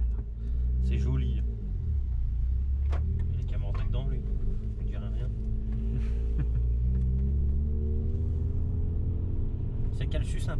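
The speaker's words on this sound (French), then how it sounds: "Écoute-moi le bruit du diesel, mon copain." A BMW E46 diesel engine runs steadily with a continuous low rumble and throb, loud and close throughout. People talk over it intermittently.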